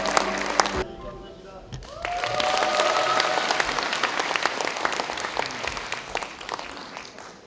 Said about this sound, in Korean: 최문순 전 기사님께 다시 한번 큰 박수 부탁드리겠습니다.